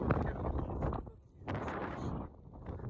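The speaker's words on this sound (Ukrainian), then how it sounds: "вітер просто тут страшний" Heavy wind buffets the microphone on an open pasture in a constant low roar, with gusty rumbling swells and faint muffled sounds beneath.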